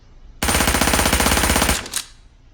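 An MP7 submachine gun fires one loud, sustained burst of rapid shots, close and alone, ending sharply and followed by a brief metallic clack.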